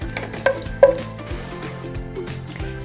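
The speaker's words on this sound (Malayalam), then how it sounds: "ഇനി ഇതിലേക്ക് 1 ടീസ്പൂണ് നല്ല ജീരകവും, പിന്നെ 2 പട്ട, 2 ഗ്രാമ്പു, 2 ഏലക്കയും കൂടി ഇട്ടിട്ട് നല്ലോണം ഒന്ന് വഴറ്റിയെടുക്കണം." Cumin, cinnamon, cloves and cardamom sauté in a pan with a soft, steady sizzle, broken by several sharp clicks and scrapes from stirring.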